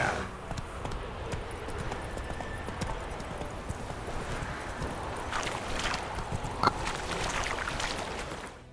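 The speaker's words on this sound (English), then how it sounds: "Where are you going, horse?" Horse hooves clip-clop steadily in the Elite Dangerous video game, a continuous run of close hoofbeats over a dense background bed.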